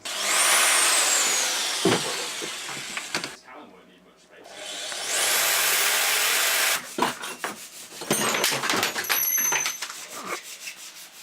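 Power drill boring into material in a garage while building a sim rig from a trampoline, loud grinding bursts with a pause in the middle, then choppy drilling and rattling.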